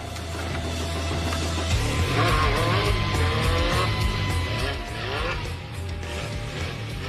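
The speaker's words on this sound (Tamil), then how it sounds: "எதிர்வையில மஞ்ச பைக்ல மஞ்ச டீஷர்ட் போட்டு வீலிங் அடிச்சு காட்டுறாரு" A yellow motorbike ridden by a man in a yellow T-shirt roars loudly through a wheelie stunt, its engine revving steadily with screeching, squealing tones over about seven seconds, with no talk.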